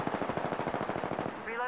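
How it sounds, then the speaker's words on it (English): Rapid automatic gunfire from Apex Legends, a sustained burst of close, loud shots in steady rhythm that give way near the end to a brief mechanical rattle. "Contact with hostile. Firing."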